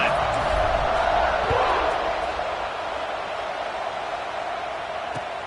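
A college football stadium crowd cheers at a kickoff, a dense, loud roar that fades slightly, with a voice speaking over it.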